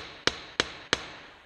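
A hammer strikes sheet metal resting on a saddle during hand seaming, giving three sharp, evenly spaced metallic blows, close and loud, each ringing briefly before fading.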